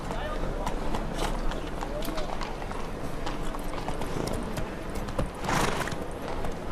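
Horse hooves gallop on city streets in the video game The Witcher 3, a rapid clip-clop rhythm under steady ambient noise and a voice speaking over it.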